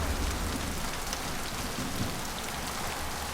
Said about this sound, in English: The rain is very loud.